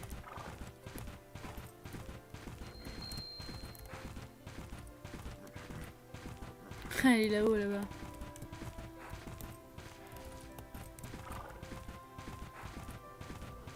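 Horse hooves clip-clopping in the video game Bella Sara, a steady rhythmic trot running throughout with a brief neigh near the middle, under French-speaking voices.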